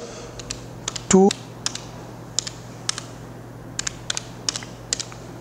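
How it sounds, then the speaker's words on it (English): Keys pressed on a calculator while working a heat transfer conduction problem: a dozen or so light, close clicks in an irregular rhythm, with a short voiced sound breaking in among the taps. "Now by using calculator"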